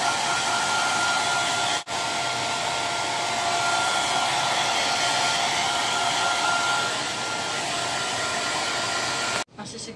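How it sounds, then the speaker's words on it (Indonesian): A hair dryer runs continuously on hair after bleaching, a loud, steady airy roar close by that cuts out briefly near the start and again at the end. "Terus kita hair dryer ya, hair dryer sampai kering."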